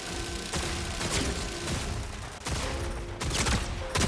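Pump shotgun fire in a video game, with several loud blasts spaced irregularly over a busy, noisy game soundscape.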